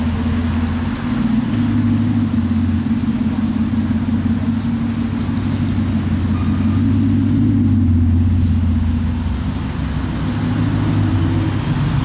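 A Bugatti Chiron Super Sport rolls along avenue Montaigne in Paris with a steady low engine drone, loud and close, over continuous street noise for the whole stretch.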